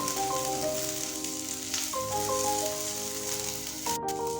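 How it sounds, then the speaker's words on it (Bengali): Cashews with sliced onion frying lightly in a pan for egg korma, a steady close sizzle running throughout under a faint musical tone, with no talking. "সব কিছুকে খুব বেশি না হালকা করে ভেজে নেবো"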